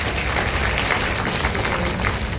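Steady applause fills an auditorium for speaker Bharathi Baskar at a Joyalukkas house-donation ceremony, a dense continuous wash of clapping from a large seated crowd without a break.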